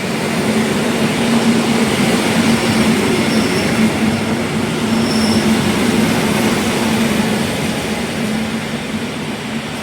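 A Koleje Dolnośląskie train rumbles loudly and steadily through an old railway station, with a continuous close roar of wheels and a faint high squeal above it.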